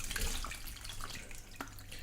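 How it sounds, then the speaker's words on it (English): Rhubarb wine liquid and rhubarb poured into a brew bin through a sheet of muslin, a steady close splashing and trickling stream with a low hum beneath it. "So I will pour off the liquid and the rhubarb"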